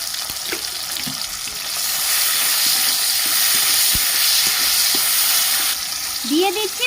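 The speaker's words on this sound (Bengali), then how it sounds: "তেলটা গরম হয়ে গেছে কালো জিরে ফোড়ন দিয়ে দিচ্ছি কেটে রাখা টমেটো দিয়ে দিচ্ছি" Chopped tomatoes and nigella seeds frying in hot oil, with a loud, continuous close-up sizzle that swells as the tomatoes go in, with occasional spoon clicks.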